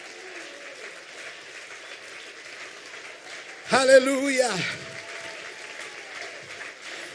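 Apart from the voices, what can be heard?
church congregation applause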